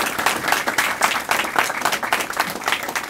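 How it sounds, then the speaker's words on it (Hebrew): An audience at a rabbi's evening lecture applauds Shalom Cohen, the host of the event, with a steady round of rhythmic clapping that stays fairly close and full throughout, with no talking. "אז מגיע לו כפיים."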